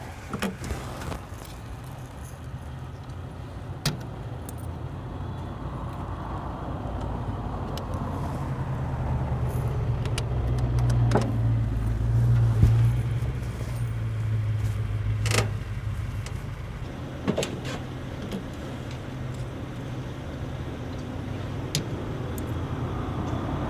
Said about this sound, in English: concentrate on all the ambient sound, the car sounds around Jake and how loud they are